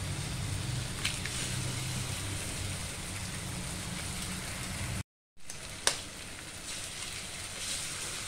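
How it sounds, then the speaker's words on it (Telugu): Two eggs frying in a pan with tomato for egg bhurji, a steady soft sizzle and crackle throughout, with a brief cut midway and a small tap just after. "ఇందులో 2 ఎగ్స్ వేసుకుందాం."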